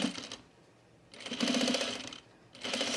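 A home sewing machine stitches a men's utility jacket in two steady whirring runs split by a short pause, close and moderately loud with no voices.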